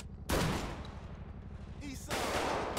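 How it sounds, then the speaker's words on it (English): Locals firing guns in FivePD, sharp bursts of gunshots near the start and again toward the end over a steady low rumble of game ambience. "Oh, I'm being shot by locals."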